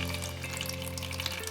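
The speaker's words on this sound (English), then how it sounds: "I'm going to pour water onto the top, and you guys can see how fast the water flows through" Water poured over sphagnum moss in a carnivorous bog garden setup trickles and fizzes as it flows through, a close continuous wet hiss with faint dripping, no speech.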